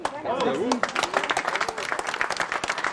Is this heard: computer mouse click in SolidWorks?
no